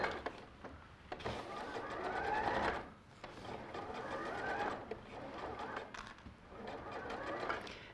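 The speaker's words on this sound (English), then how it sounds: "And then we'll do the top stitch either side again." A sewing machine runs top stitching in steady whirring bursts of a few seconds each, separated by brief pauses, faint and unaccompanied by talk.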